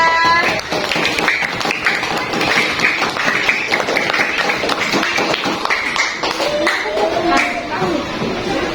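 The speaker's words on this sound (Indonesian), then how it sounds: "Yang lain tepuk tangan dulu untuk Ramela." Classroom of primary school children clapping for a classmate, a burst of quick, uneven claps filling the room, fairly close and loud, with voices and chatter mixed in.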